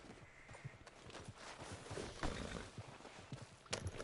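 Horse hooves in Red Dead Redemption 2 on a PS4 Pro: a steady walking clip-clop of hoofbeats, fairly quiet and continuous, with no voices over it.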